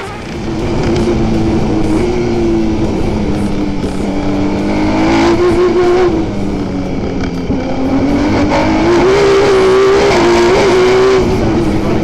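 Onboard a drift car lapping a racetrack, the engine drones loud and constant, its pitch rising and falling with throttle as the car slides through corners, with no talk over it.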